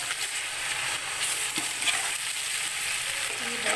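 Green chilies and spices sizzle steadily in hot oil for peas pulao, a close, continuous frying hiss with faint stirring scrapes and no voices.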